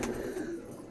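Soft, low pigeon cooing close by, a continuous throaty murmur with no talking.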